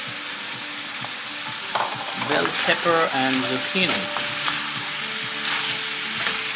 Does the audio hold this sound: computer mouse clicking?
no